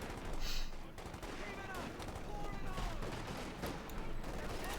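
Browning light machine guns rattle in the game Company of Heroes 2, repeated bursts of automatic fire and scattered shots in an ongoing battle, moderately loud with a voice talking over them.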